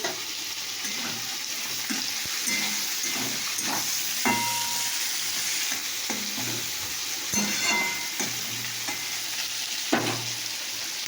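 Bitter gourd frying in a pan, a steady close sizzle with repeated scraping stirs of a spatula and a low hum beneath.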